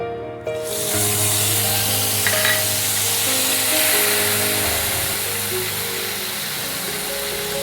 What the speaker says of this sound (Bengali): প্রথমে আমি এই পেঁয়াজটাকে তেলে দিয়ে দেব।